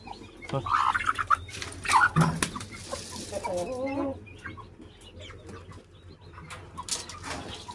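Chickens cluck and coo nearby in short bursts, mixed with a voice calling out and scattered outdoor noises.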